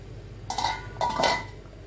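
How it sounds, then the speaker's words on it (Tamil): Two quick metallic clanks a half second apart as a lid is set down onto a pot of simmering paneer kuruma, over a faint low kitchen hum. "இப்போ மூடி போட்டு மூடி வச்சுக்கலாம்."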